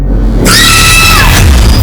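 A person screams over a landline phone call in a crime drama, one loud, sustained cry that rises sharply and fills the short moment.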